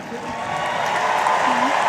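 The crowd at the Westminster Kennel Club dog show applauds and cheers during best in show judging of the terriers, a steady wash of clapping and noise from a large arena audience that swells slightly toward the end.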